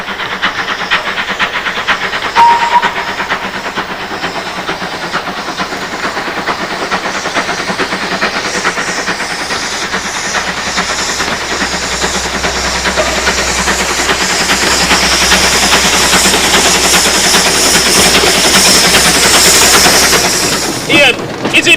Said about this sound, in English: It's a tank engine.